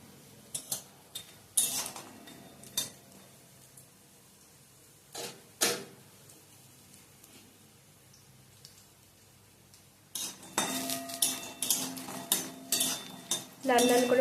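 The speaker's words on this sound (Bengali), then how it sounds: "এবার দিয়ে দিচ্ছি বড়ি। বড়িগুলোকে নাড়াচাড়া করে লাল লাল করে ভেজে নেব।" Bori lentil dumplings go into hot oil in a kadai and are stirred, heard mostly as scattered clinks and scrapes of a spatula against the pan with quiet gaps, turning into a busier run of scraping near the end.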